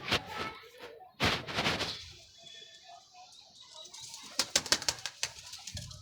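Pigeons cooing softly nearby, low murmuring calls among scattered flapping and sharp knocks, with brief bursts of handling noise.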